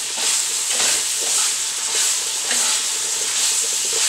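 Ingredients for a sauerkraut casserole fry in a pan, giving a steady close sizzle and hiss with faint stirring scrapes throughout.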